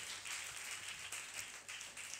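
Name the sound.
congregation clapping for the team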